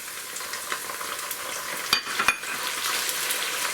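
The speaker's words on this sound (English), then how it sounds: "I'm going to put in the ginger garlic paste." Ginger garlic paste sautéing in a hot pan for a mushroom pilau, a steady bright sizzle with a few sharp spoon scrapes and knocks against the pan, close and alone without talk.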